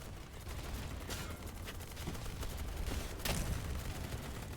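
Bursts of gunfire crackle in the video game BattleBit, several quick shots and volleys at moderate distance over a constant noisy bed, with no talking.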